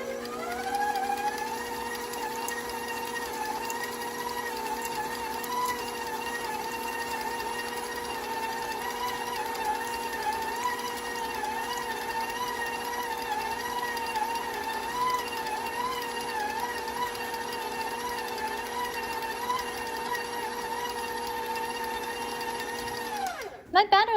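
An electric mixer beats chocolate peanut butter chip cookie batter in a bowl, producing a steady, close, high motor whine that holds for over twenty seconds before cutting off abruptly at the end.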